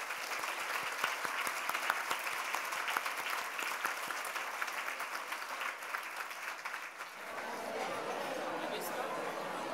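A lunchtime event audience bursts into sustained applause, many hands clapping densely together, with background chatter and a voice emerging as the clapping fades.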